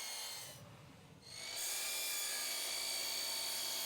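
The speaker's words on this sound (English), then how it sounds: "set my miter saw to make a 45-degree cut, cut miters on both ends of the first frame piece" Miter saw cutting 45-degree miters on a PVC deck frame: a high steady whine that dips briefly, then returns loud and sustained as the blade runs close by.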